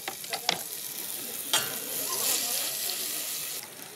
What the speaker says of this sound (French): Donc, on fait juste revenir les échalotes dans l'huile.